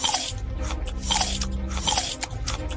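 Crunching, biting chew effect of a tiger eating a cat in a comedy sketch, repeated wet crunches in quick bursts over a low rumble, close and loud with no talk.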